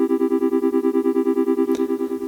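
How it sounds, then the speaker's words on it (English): Granular synthesis patch on a Polyend Tracker, a steady buzzing tone with a fast regular pulsing flutter and bright stacked harmonics, sustained throughout, with a brief noisy click near the end. "Now the Granular synth, what it'll do is it takes like a very short section of the sound and creates like a little sound inside of it."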